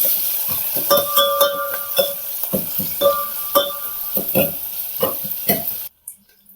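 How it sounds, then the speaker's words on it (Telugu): Onion fries in a pan with a bright constant sizzle, punctuated by repeated metallic clinks and scrapes of a utensil stirring, close and loud, before the sound cuts off abruptly near the end. "ఈ ఒక ఉల్లిగడ్డ జర్ర ఫ్రై చేసుకోవాలి"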